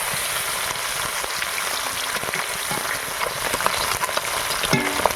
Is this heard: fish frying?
yes